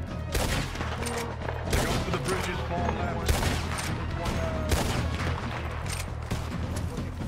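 Sustained gunfire in a firefight at Pikes Basin, with dense overlapping shots and bursts running continuously and loud throughout, mixed with voices calling out.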